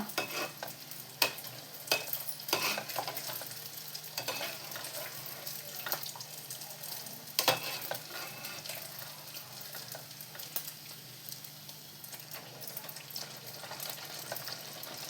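Food fries in hot oil in a home kitchen, a continuous crackling sizzle punctuated by sharp pops and utensil clinks, fairly faint and heard from a little distance.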